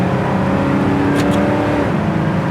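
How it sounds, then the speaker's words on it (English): 1972 Chevy Nova small block V8 revving out under load, a loud sustained engine drone with climbing then easing harmonics, close and continuous, no voices. "What I like is it's a small block. You can get this thing revving out."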